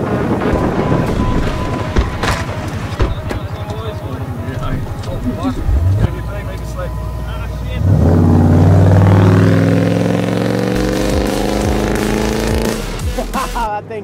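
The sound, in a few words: budget cars racing on sand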